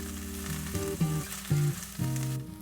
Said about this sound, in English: Saute the daikon and the green onion for about a minute.